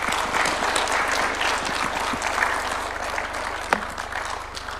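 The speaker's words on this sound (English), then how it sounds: "Another round of applause for His Excellency." A large audience claps steadily at a book launch held at State House in Kenya, loud and dense applause that thins slightly toward the end.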